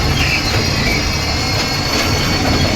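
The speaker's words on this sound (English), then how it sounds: "This train has it all." An amusement park train at Adventure City rolls steadily along its rails, a close, continuous rumble with faint wheel hiss and no clear talk throughout.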